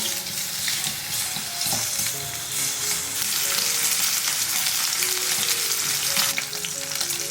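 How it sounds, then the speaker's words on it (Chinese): Steamed, sliced pork belly stir-fries in a little oil inside a clay pot, producing a loud, steady sizzle with scraping and stirring noises running throughout and no talk. "砂锅加一点点底油，把五花肉放进来煸香"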